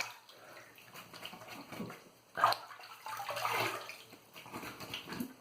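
Water splashes and swishes softly as a Stirling 26mm badger shaving brush and Proraso White lather are rinsed under a running tap, with brief louder sloshes in the middle.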